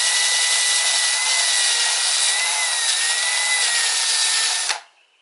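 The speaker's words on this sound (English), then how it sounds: "So I just simply come in here with a wire wheel." Power wire wheel scouring grime out of the threads on a Honda CBR/VFR800 rear sprocket, a loud, close, steady high-pitched whirring and scratching that runs about five seconds, then cuts off abruptly into a brief fading spin-down.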